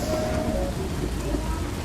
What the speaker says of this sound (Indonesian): hujan terlalu deras,